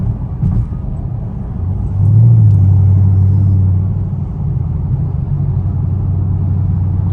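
A straight-piped Camaro SS rumbles loudly through a tunnel at night, its deep exhaust swelling into a heavy droning surge midway and then settling into a steady low roar, heard from inside the car.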